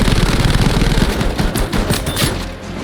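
The F4U-1A Corsair fighter's machine guns fire in Battlefield 5, a rapid, dense and loud burst of sustained automatic gunfire with no talk over it.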